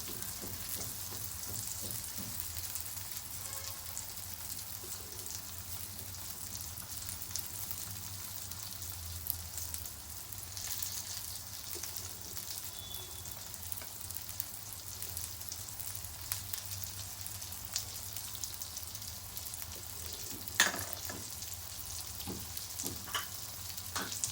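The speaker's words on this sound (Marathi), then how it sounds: "तर साईडने आपण तेल सोडूया" Brinjal and potato slices fry on a tawa as oil is added around them, giving a sustained close sizzle with occasional louder pops and stirring clinks, and no one speaking.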